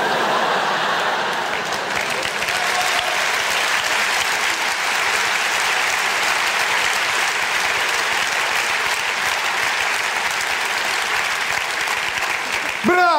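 Sustained audience applause on a radio comedy show, dense steady clapping at even loudness, continuing for over ten seconds before a brief high sound at the end.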